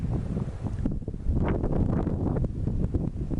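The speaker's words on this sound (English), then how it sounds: "The sound as it blows through the junipers" Wind blowing through junipers in a desert setting, a continuous breathy rush with gusting swells and rustling, buffeting the microphone.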